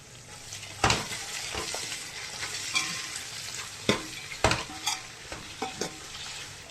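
Whole spices (cinnamon, cloves, cardamom and bay leaf) fry in oil and ghee for ghee rice, a steady sizzle broken by sharp stirring scrapes and clinks against the pan, close and with no speech.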